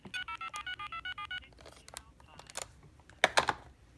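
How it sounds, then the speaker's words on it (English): An AT&T Trimline corded telephone dialing a redial sequence: a rapid run of about ten evenly spaced touch tones, close and loud, followed by scattered clicks and handling knocks. "Also, redial works."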